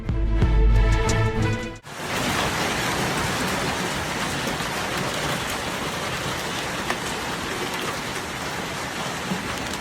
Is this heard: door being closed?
no